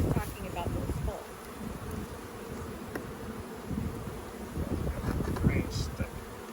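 Honey bees buzzing around hive boxes in an apiary as honey supers are pulled, a continuous droning hum of many insects close by with some light handling noise and faint wind.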